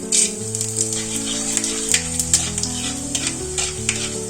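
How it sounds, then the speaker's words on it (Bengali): Whole cumin seeds hiss and crackle in hot oil with bay leaf, cardamom, cloves and cinnamon. The sizzle is close and steady, with stirring scrapes and background music underneath. "আর দেব গোটা জিরে।"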